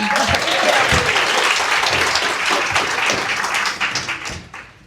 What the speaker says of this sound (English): Round of applause for Dawn.